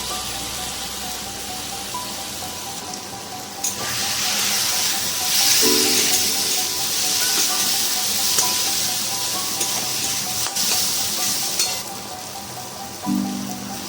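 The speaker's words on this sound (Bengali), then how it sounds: "এবার এর মধ্যে সর্ষে বাটাটা দিয়ে দেবো কাঁচা লঙ্কা দিয়ে বেটে রেখেছিলাম" Mustard paste ground with green chilli goes into a pan of cooked aubergine and potato, setting off a loud continuous hissing sizzle that swells midway and stays steady, close up and without speech.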